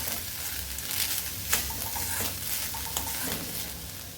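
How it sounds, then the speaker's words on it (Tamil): Boiled chickpeas being stirred into sautéed onions in a hot pan, a steady sizzle with scraping stir strokes and a few sharper knocks of the spoon against the pan, close and alone. "இப்போ இதில் வேக வச்ச சுண்டலை சேர்த்துக்கலாம். இதை நல்லா கலந்து விட்டுக்கலாங்க."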